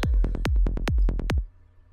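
Punchy electronic kick drums thump in a fast, uneven pattern with a deep bass underneath, then cut off abruptly near the end.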